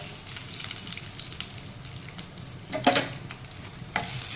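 Tempering of dried red chillies and asafoetida crackles steadily in hot oil for a tomato and ridge gourd chutney, with a soft stirring scrape and a brief louder burst of sizzle near the end.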